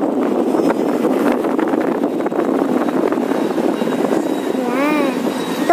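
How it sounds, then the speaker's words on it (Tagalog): Strong wind in Keelung, Taiwan buffets the microphone in a loud, continuous rumble, with faint traffic or machinery underneath and a brief tonal squeal near the end. "Lakas ng hangin."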